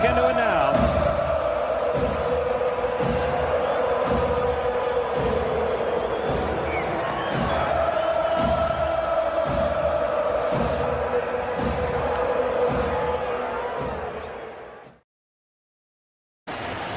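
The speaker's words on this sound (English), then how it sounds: "This crowd's back into it now." Baseball stadium crowd at an Atlanta Braves versus Brewers game, a steady loud roar of cheering and shouting that swells and holds for about fifteen seconds before cutting off, with voices mixed into the din.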